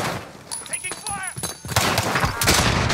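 Rapid bursts of video-game gunfire crackle in quick succession over a player's excited talk, with several sharp reports stacking near the end.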